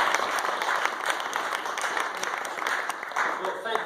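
Audience applause filling a room at a Cambridge Brexit campaign meeting, steady broadband clapping from a crowd that holds at an even level for several seconds.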